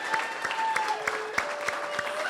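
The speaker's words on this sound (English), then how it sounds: "Let's give a real big round of applause for our candidates." A short burst of applause from a crowd at a candidate forum, steady clapping at moderate volume, with a sustained tone ringing faintly beneath it.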